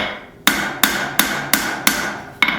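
Hammer strikes forging a steel fillet knife blade at cooler heats, six sharp metallic blows in a steady rhythm, close and loud, with no talking.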